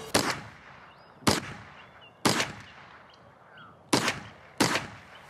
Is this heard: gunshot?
yes